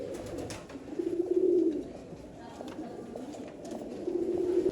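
Sialkoti pigeons with black faces cooing in soft, repeated rolling calls, two clear bursts near and fairly loud over a steady background murmur of other birds.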